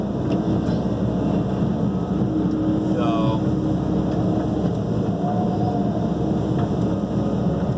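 A Kobelco 135 excavator running while backfilling a basement makes a steady, loud low engine drone throughout, with faint higher whines and brief mechanical squeals over it.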